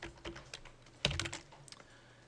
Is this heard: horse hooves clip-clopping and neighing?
no